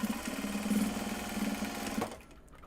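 A sewing machine stitches project bags from Japanese fabric, running in a steady, close, continuous hum for about two seconds before stopping abruptly.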